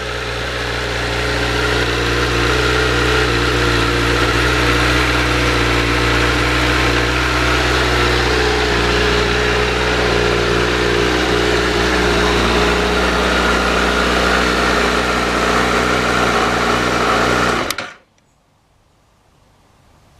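A Honda CBR1000RR sport motorcycle idles on a chilly morning with a steady, loud, even engine drone close by. It runs for about eighteen seconds, then cuts out abruptly into near silence.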